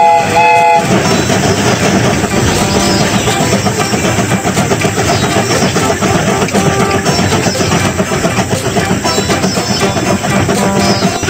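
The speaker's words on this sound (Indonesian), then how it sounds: "Kereta ini akan segera berangkat." A video game train departing, rumbling steadily along the tracks, loud and continuous, with a brief horn-like tone at the start.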